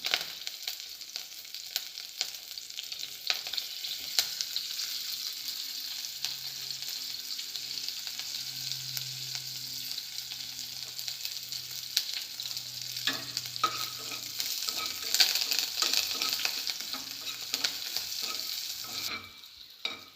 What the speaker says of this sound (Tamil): இதில் வந்து பச்சை மிளகாவும் கருவேப்பிலையும் நல்லா கிறிஸ்பாக ஆகணும்.